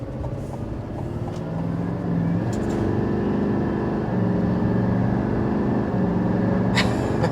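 A 2024 Chevy Silverado 2500 HD diesel pickup accelerates hard, heard from inside the cab. A loud, steady engine drone rises in pitch through the gears and stays prominent from start to finish.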